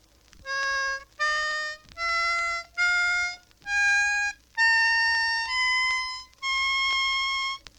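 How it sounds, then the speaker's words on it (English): A harmonica plays eight separate notes climbing step by step in a scale, each held briefly with short gaps between, clear and alone. "Try a simple do-re-mi scale as shown in the book."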